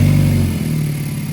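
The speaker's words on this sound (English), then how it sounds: "what we're gonna do now is fire the car up" A Hyundai Elantra N engine, fitted with a Sonata high-pressure fuel pump, rumbles loudly close by, settling from a heavier revving roar into a steady, lower idle.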